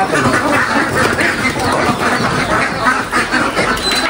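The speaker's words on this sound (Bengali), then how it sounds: "আমি চেক করতেছি হাঁসগুলা" A large flock of newly bought ducks quacks continuously in a dense, loud chorus that fills the space, the calls overlapping with steady crowded noise and no clear pauses.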